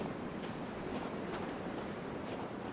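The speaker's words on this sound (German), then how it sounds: "Man hört auf jeden Fall den Wind," Wind rushing through treetops in the stormy, cold forest of the video game Sons of the Forest, a constant loud broadband whoosh with gentle gusts.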